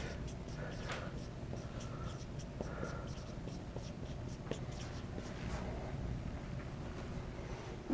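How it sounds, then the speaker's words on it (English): Chalk or marker scratches and taps across a board during a calculus lecture, a steady series of faint strokes in a quiet room with a voice speaking softly at times. "If I write this, does it help?"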